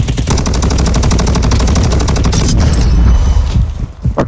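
Rapid automatic gunfire rattles in a fast, even stream during a Call of Duty Warzone match, loud and close, tapering off with a few scattered shots near the end.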